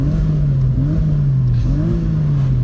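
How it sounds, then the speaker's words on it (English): A Porsche Boxster 986 engine revs steadily, its pitch rising and dipping through a couple of throttle blips, loud and close with no talking. "Check out this engine."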